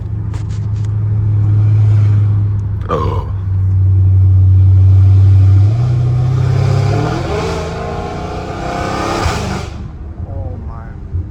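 A Dodge Hellcat Redeye's supercharged engine roars loudly up through the gears with a rising supercharger whine, heard from inside the car, with brief shift breaks and a passenger's exclamations over it.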